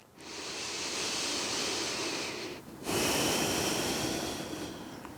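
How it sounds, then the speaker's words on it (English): Slow, steady breathing in and out through the nose during a calm yin yoga session, close and airy, with a long breath, a brief pause, then a stronger rushing breath, no talking. "begin to breathe in and out of your nose, some natural breaths"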